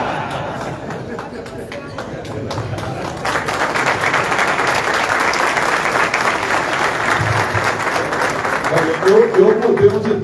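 Crowd applause at a Brazilian political event in Brasília, building steadily from light scattered clapping into dense sustained clapping, with someone speaking over it near the start and again toward the end.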